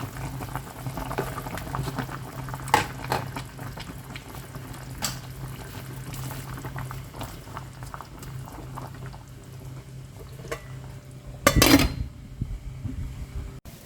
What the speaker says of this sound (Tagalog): Tapos, takpan ulit natin. At pakuluan.